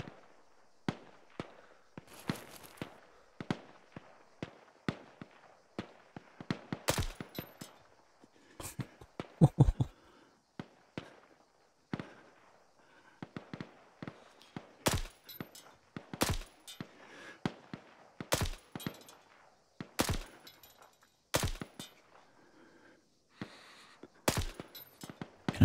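Gunfire in Arma 3, sharp cracking shots, some single and some in quick bursts, scattered irregularly across a long stretch, loud and close, with short quiet gaps between volleys.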